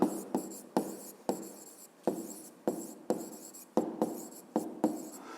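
A pen writes by hand in short, regular scratchy strokes, each stroke a brief rasp followed by a pause, steady and close with no voices.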